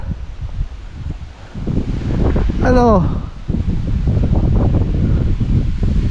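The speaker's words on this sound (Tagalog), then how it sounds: "sobrang lakas nga lang ng hangin." Strong wind sweeps across a mountain road in Batangas City, roaring and buffeting the microphone in steady gusts, with a voice speaking briefly near the middle.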